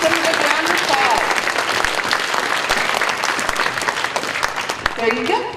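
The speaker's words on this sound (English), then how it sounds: "Please give them a good round of applause." School audience applauding at an elementary morning assembly, a loud sustained burst of many hands clapping that fades slightly toward the end, with voices and chatter mixed in.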